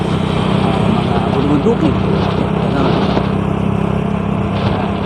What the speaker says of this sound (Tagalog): iba ang tunog ngayon itong motor natin